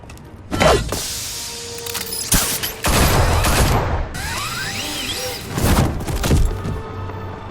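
Bursts of gunfire in Batman: The Telltale Series, several loud volleys of shots and impacts separated by short gaps, mixed with crashing and whooshing action effects.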